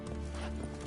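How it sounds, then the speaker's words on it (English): Horses at city stables clip-clop with hooves and give a neigh, heard close and fairly soft in a brief burst, with a faint voice underneath. "You'll hear horses neighing before a quarter hour's out."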